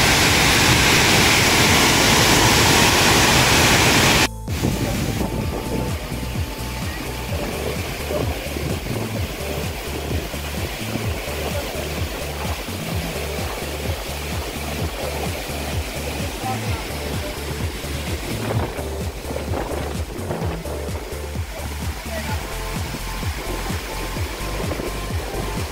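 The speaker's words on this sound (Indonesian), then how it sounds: "ini kondisi air terjun Dolo Kediri pada saat weekend" A steady, loud rush of falling water from the Dolo waterfall in Kediri, on the slopes of Mount Wilis, roars continuously, with a sudden shift in tone early on and faint voices of a weekend crowd mixed into the noise.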